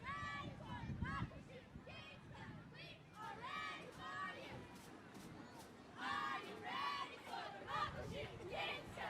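A high school group cheers in unison from the street during the Daffodil Festival Grand Floral Parade, young voices chanting in bursts amid crowd babble, fairly distant under a nearby announcer's talk.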